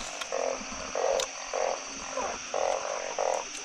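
Narrow-mouthed frogs call in a steady run of short buzzing croaks, about six pulses in under four seconds, close and clear over a faint night hum during village frog catching.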